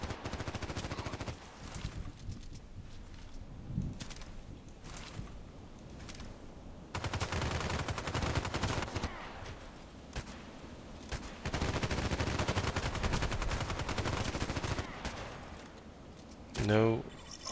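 Automatic gunfire in the Contract Wars shooter game, on the Interchange and Old Sawmill maps, rattles in sustained bursts through most of the stretch, moderately loud with brief pauses between volleys.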